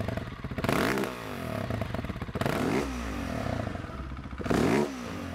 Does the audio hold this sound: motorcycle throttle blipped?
yes